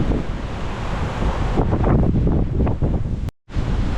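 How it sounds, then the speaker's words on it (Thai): Strong gusty wind at open sea roars and buffets the microphone, blowing spray off the waves, with rushing, splashing surf noise swelling in the middle and a brief dropout near the end. "ลมแรงจนพัดแบบคลื่นที่มันเป็นกระจายขึ้นมา"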